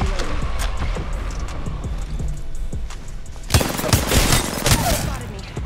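An R-99 submachine gun fires in Apex Legends, with rapid, dense automatic bursts that crackle continuously and grow louder and busier in the second half, close and intense.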